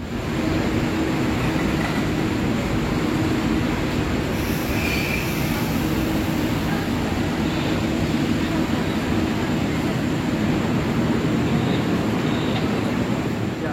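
Mutiara Timur passenger train rolling into Surabaya Gubeng station, a loud continuous rumble of wheels on rails with a high squeal partway through and faint voices in the background.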